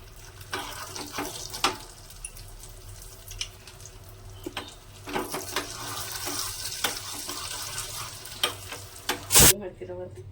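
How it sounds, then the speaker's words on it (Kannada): Almonds and cashews frying in oil in a pan for moong dal payasa give a steady low sizzle, broken by scattered clinks and scrapes of stirring and a sharp clatter near the end. No one speaks. "ಬಾದಾಮಿ ಮತ್ತು ಗೋಡಂಬಿ ಹಾಕೋತಾ ಇದ್ದಾರೆ. ಅಗಡಿಕೆ ಹಾಕ್ತೀನಿಲ್ಲ, ಎಣ್ಣೆ ಹಾಕೊಂಡು ಇವಾಗ ಫ್ರೈ ಮಾಡ್ಕೊತಾ ಇದ್ದಾರೆ."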